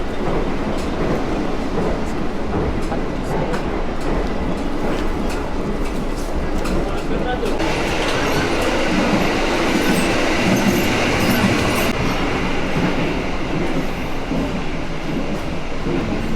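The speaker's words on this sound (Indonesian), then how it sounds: "lebih baik pilih ini aja, kereta api Argo Semeru." Argo Semeru passenger train running between Jakarta and Surabaya, heard from inside the coach as a steady loud rumble with rhythmic wheel clatter and occasional squeal, continuous for the whole stretch.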